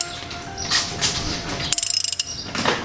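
Ratchet tightening a fitting during an oil change on a BMW E90-series 3 Series, a quick run of about ten sharp, evenly spaced clicks up close, set between softer mechanical clatter with no talking.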